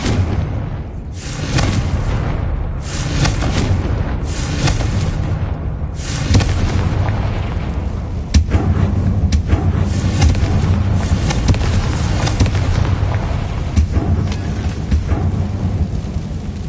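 Confringo, the blasting spell in a Hogwarts video game, sets off a loud, sustained rumbling roar of explosions and crackling debris that carries on for many seconds with no speech.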